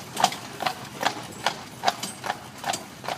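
Horse hooves clip-clopping on a road while pulling a jaunting car near Killarney, eight evenly spaced, close, crisp hoof strikes in a steady walking rhythm with a faint background hum.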